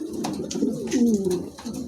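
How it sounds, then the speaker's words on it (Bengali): A pair of bullhead long-face pigeons coo close by: soft, low, rolling throaty calls that swell and waver without pause for about two seconds. "খুবই চমৎকার একজোড়া কবুতর"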